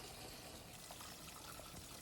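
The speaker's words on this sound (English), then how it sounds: "More rinsing." Water steadily rinses a lace wedding dress, a continuous soft wash of running, splashing liquid with no pauses.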